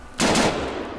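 Gunfire from an AUG rifle in the video game Arma 3: a single loud, sharp report with a short trailing echo, heard alone without any talk.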